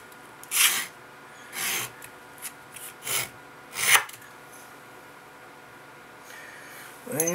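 A hollow punch being sharpened by hand, with abrasive strokes on stone or grit paper: five or six separate rasping passes at uneven intervals, close and moderately loud, then a quieter scrape at the end.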